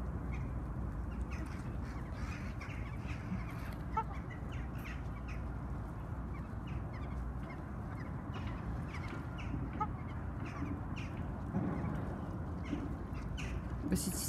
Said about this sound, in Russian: Конечно, уточки-голуби надеются, что их кто-то покормит.